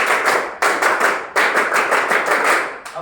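A group claps together in a rhythmic Indonesian scout clapping pattern, bursts of quick claps separated by short breaks, loud and close with no talking.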